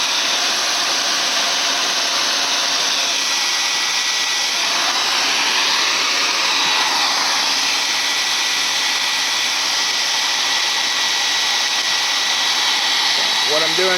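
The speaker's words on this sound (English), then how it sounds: "you can move the blow dryer around and produce different effects" A blow dryer blasts steadily on spray-bottle paint art, a loud continuous broadband whoosh that holds for the whole stretch with slight shifts as it is moved around.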